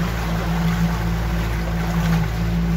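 A boat cruising at sea gives a steady, loud engine drone with a low hum, mixed with water rush and wind noise, continuous and close with no talk.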